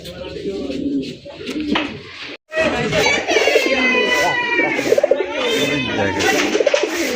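American shaking pigeons coo loudly and repeatedly up close, with trilling calls layered over a noisy crowd of other birds. A brief silent gap comes before the cooing resumes, and someone talks at times.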